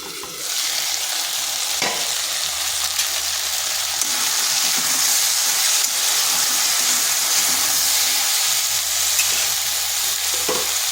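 Potatoes and taro pieces fry in a pan with a loud, continuous, close sizzle and hiss, broken by a few faint stirring knocks and a low background hum, without speech.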